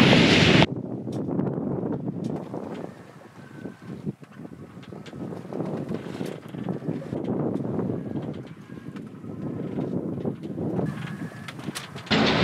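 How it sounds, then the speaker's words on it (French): Wind rushes steadily past the microphone aboard a sailboat under sail at sea, a low, rolling roar with the wash of water beneath, rising and easing in gusts. "Le vent a baissé énormément, mais ça va, on est toujours là sous voile"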